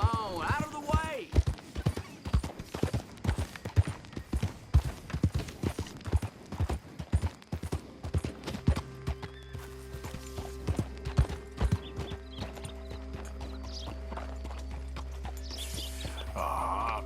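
Steady clip-clop of horse hooves in a quick rhythm, fairly close, in the video game Red Dead Redemption 2, with speech and music-like tones rising toward the end.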